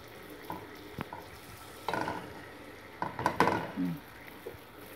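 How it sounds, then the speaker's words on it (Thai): Coconut cream and red curry paste cook on low heat for Thai red pork curry, a faint bubbling sizzle broken by a few stirring scrapes and clinks of a utensil against the pot, with no talking. "หัวกะทิลงไปเคี่ยวให้แตกมันนะจ้ะใส่น้ำพริกลงไปไฟอ่อนๆ"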